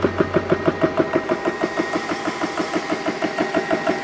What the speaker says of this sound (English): Man, I am loving this compressor.